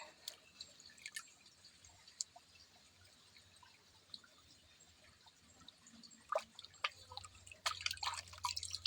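Water drips and trickles faintly while angol, a kilo of it, is washed, with sparse scattered drops that grow busier and splashier toward the end, close but quiet.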